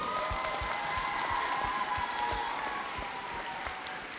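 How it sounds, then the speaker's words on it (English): Schoolchildren at Sherwood Park school clap together in a gymnasium-like space, a steady, busy round of applause with a few scattered shouts, lasting about four seconds. "Give yourselves a huge round of applause."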